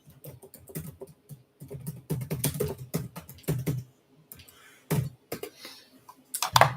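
Someone types on a computer keyboard in rapid, uneven bursts of close key clicks separated by brief pauses, with no talking over it.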